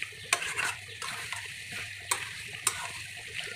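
Mutton fries down in a pan, its meat cooked until the oil separates, while a spatula stirs it with soft scrapes and a few sharp knocks against the metal over a quiet, low sizzle, alone without speech.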